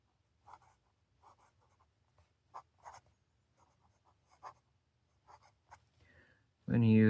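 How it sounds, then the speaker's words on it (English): A Junlai 630 fountain pen with an architect nib scratches across paper in faint, irregular strokes and short pauses, closely miked, before a voice starts speaking at the very end. "When you use the architect nib carelessly like this, it almost looks like a broad nib."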